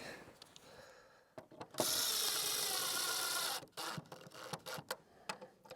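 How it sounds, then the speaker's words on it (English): A power drill drives screws into wood, countersinking them during an off-grid build in Africa: short clicks and whirs, then one sustained loud whine of about two seconds, followed by a few shorter bursts nearby. "So don't get crazy when you screw this in, just let it countersink."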